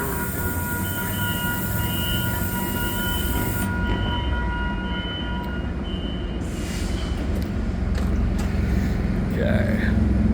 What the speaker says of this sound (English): It's probably Metrolink 606 in San Clemente, around 7:10 p.m. on November 10th,